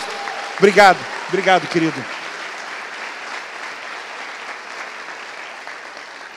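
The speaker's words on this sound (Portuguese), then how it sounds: "dá um glória a Deus, dá um aleluia, uma salva de palmas ao Senhor." Church congregation applauding during a worship service, a sustained, moderately loud patter of clapping throughout, with someone briefly speaking Portuguese over it near the start.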